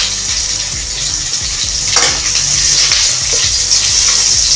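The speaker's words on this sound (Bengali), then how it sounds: "এবার আদা রসুনটা হালকা ভাজা হয়ে গেলে এবার দিয়ে দিব লঙ্কা কুচি" Chopped green chilies sizzle loudly in hot oil with ginger and garlic, a steady close crackle broken by brief stirring scrapes.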